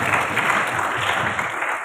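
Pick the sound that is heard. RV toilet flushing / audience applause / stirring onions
audience applause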